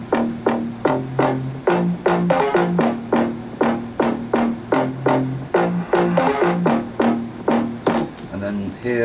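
Layered bass synth sounds from an electronic track breakdown play together in a steady rhythmic pattern of punchy, repeated notes with pitched tonal body, loud and continuous across the whole stretch with no talking.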